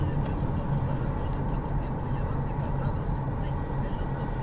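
A 2012 Hyundai Sonata, a cheap salvage-auction rebuild, drives along with a steady low engine and road drone from inside the cabin, constant and moderately loud throughout.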